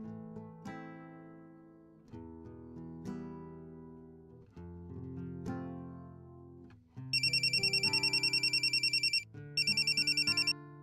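A melodic phone ringtone plays over and over with nobody answering, then a shrill electronic beeping pattern joins in two bursts.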